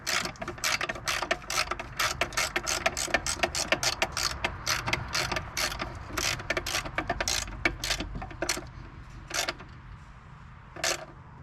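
Rapid ratchet clicks from a hand wrench tightening a 10mm bolt into a bracket on a 2012 Nissan Titan, close and crisp, in quick bursts that slow toward the end, with no talk.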